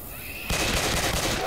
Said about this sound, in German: Wir schießen doch nicht aufeinander!